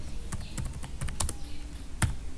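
Someone types on a computer keyboard at a desk, a quiet run of irregular clicking keystrokes with a few sharper taps and no talk.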